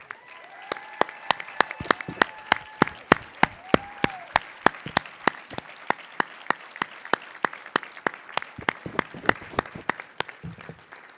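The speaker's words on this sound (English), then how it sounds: "I ask that all of our JCC Association board members please stand as we give them a round of applause." Board members at a JCC Association leadership summit receive a round of applause. Sharp, evenly spaced claps repeat in a steady rhythm for about eleven seconds, with a few faint tonal swoops early on.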